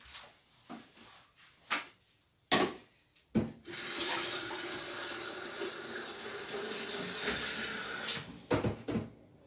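Boiled water poured into a pot of fried lamb with carrots, beans and parsnip, a steady splashing rush lasting several seconds, preceded and followed by brief clatters of kitchen handling close by.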